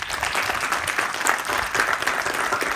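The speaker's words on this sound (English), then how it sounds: "Just stand up for a moment of applause" Audience applause at a graduation ceremony, a steady wash of many hands clapping at moderate volume that continues without a break for the whole stretch.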